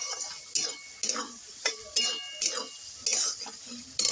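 A spatula scrapes and clicks against a pan in a quick, irregular rhythm while paneer do pyaza with onions and coriander leaves is stirred and sautéed close by.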